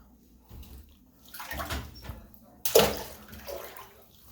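Water from a hotel bathtub tap splashes and runs in uneven surges, close and fairly quiet, with a louder gush near the end.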